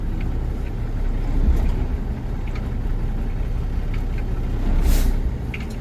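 A semi truck's engine rumbles at a steady low idle while the transmission slips in and out of gear on its own, a continuous heavy drone with slight swells and no voices.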